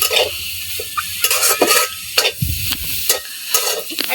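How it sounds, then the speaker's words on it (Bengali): Boiled bottle gourd greens being fried and stirred in a wok, with steady sizzling under repeated scraping strokes of a spatula against the metal pan, close and fairly loud. "শাকটা আমি হালকা ভাজা ভাজা করে এর উপরেই"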